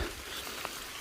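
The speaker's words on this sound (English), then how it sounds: "the break in the rain only lasted a few minutes." Steady light rain falling on a wooded mountain stretch of the Appalachian Trail between Sam's Gap and Erwin, a soft, continuous hiss of drops pattering close by with no talk.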